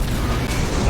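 A warship rams an enemy vessel in the space strategy game Battlefleet Gothic Armada, giving a loud, dense, sustained booming impact that fills the whole short moment without pause.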